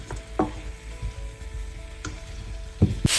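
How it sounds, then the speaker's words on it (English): Hog plums cook in a pan with spices and asafoetida, giving a low steady sizzle broken by a few stirring knocks and scrapes of a spoon against the pan, with no talking. "You then cook these hog plums for about 10 minutes."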